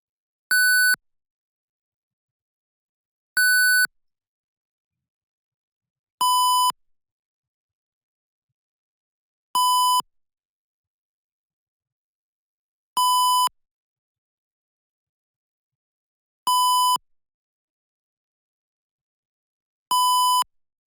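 An IoT water-level alarm buzzer sounds seven short, loud electronic beeps spaced about three seconds apart, clean and isolated against silence, the first two at a higher pitch than the rest.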